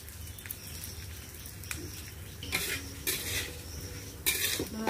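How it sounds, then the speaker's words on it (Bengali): Metal spoon scraping and clinking in a pan as mung dal is fried until reddish, with faint sizzling underneath and a few sharper knocks toward the end, quiet and close. "একটু ভেজে নিই লাল লাল করে"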